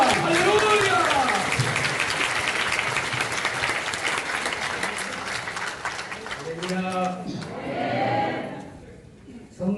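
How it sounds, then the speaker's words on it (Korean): Congregation applause welcoming a pastor at a church healing service, a sustained crowd clapping that slowly fades, with voices calling out over it and tonal singing or shouts rising near the end. "나오실 때 박수로 할게요."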